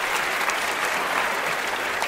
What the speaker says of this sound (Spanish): Me falta el aplauso para Nayeli